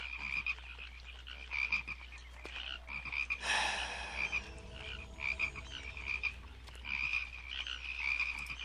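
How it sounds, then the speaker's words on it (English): Frogs croak over and over in the Pharaoh: Cleopatra city-building game, a steady rhythmic chorus with a short burst of other game noise partway through, moderately loud, with no voices. "they don't want to live in amongst a bunch of fucking frogs"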